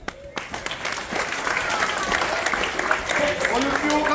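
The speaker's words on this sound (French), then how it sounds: "On peut les applaudir." Parents and spectators applaud a children's martial arts demonstration at a Christmas party. The clapping swells quickly into a full, close burst, and a voice speaks over it.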